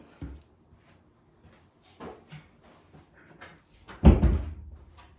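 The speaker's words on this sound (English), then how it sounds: "I'm gonna shut the door." A door is shut indoors with a single loud thud, preceded by a few quieter knocks and rustles.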